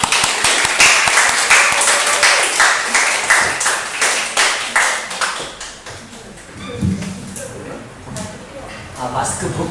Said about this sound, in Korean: 우리 하나님 앞에 영광의 박수를 돌립니다.